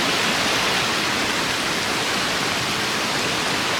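Water rushing over Haw Creek Falls, a dense, loud, unbroken roar that holds steady throughout, close by and with no voices.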